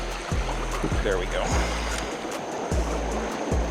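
Limestone Creek flows over a small-rock bottom into the Nolichucky River, a steady rushing wash under repeated low thumps and handling knocks, with a person speaking briefly nearby.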